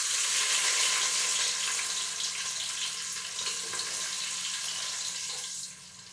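Onions sizzling in hot oil in a heated bowl for chicken dum biryani, a steady close hiss that eases slightly near the end.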